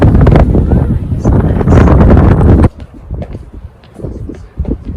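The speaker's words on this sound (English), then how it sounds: "It's so windy." Strong wind gusts buffet the microphone on a blustery day at a Los Angeles garden and flower show, a loud rushing roar for a few seconds before dropping to quieter rustling.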